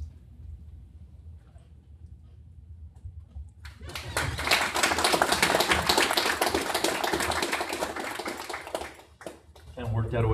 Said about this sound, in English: And worked out a way to get two rounds of applause there.